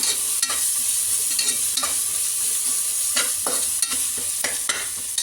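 Ginger garlic paste frying with onions for mutton biryani, a loud continuous hiss with frequent stirring scrapes spaced irregularly, close up and without voices.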